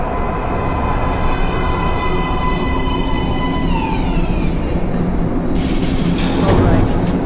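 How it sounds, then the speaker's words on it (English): A subway train rolls into a station platform in the post-apocalyptic shooter Metro Last Light, a loud sustained rumble with rising metallic screech tones, then a brighter hiss of braking near the end. "Train coming in."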